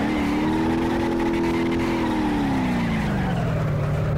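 A steady, loud engine drone from a sports car doing donuts in the BeamNG.drive video game holds one pitch, then slowly drops, joined by a faint tire-like hiss, continuous throughout.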